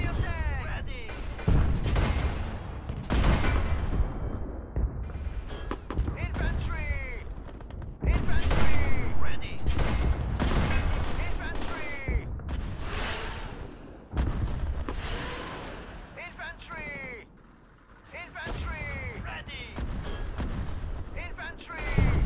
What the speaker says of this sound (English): The mission begins with an attack on entrenched Soviet infantry, AT guns and tanks with support of our artillery and allied forces.